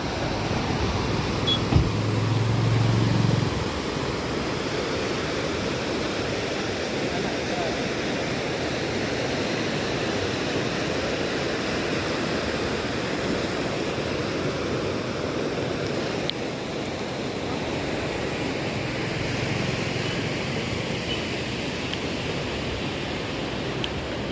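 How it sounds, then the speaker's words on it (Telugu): A constant, roaring rush of falling water fills the air, steady and broad without pause, from Athirappilly waterfall heard from nearby. "అత్రపల్లి వాటర్ ఫాల్స్ వచ్చేసి పారుతుంది కదా ఫుల్గా సౌండ్ వింటున్నారా"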